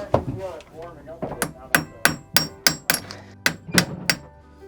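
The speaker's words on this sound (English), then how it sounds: "My biggest worry is hitting this metal with a hammer." A hammer bangs on a metal socket while pulling a boat propeller, about ten sharp ringing strikes landing in a steady rhythm after a moment of quieter handling, close and loud.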